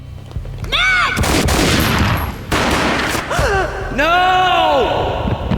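A loud gunshot boom in Max Payne among sharp cracks and impacts, with a voice shouting and speaking in slow, dramatic cries amid the bursts.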